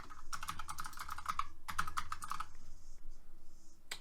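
Fingers type on a computer keyboard in quick, close bursts of clicking keys, with a short pause before a second burst and a single final keystroke, and no talking.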